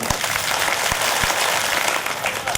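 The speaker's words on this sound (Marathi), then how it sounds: "3 वेळा डोक्यावरून टाळी वाजवायचं 3 वेळा" A group at a Ganpati mandal Atharvashirsha recitation claps their hands over their heads, producing dense, continuous clapping from many people with a few sharper, louder claps standing out. The clapping stays steady throughout, with no voices.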